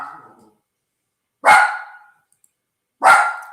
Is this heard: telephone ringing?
no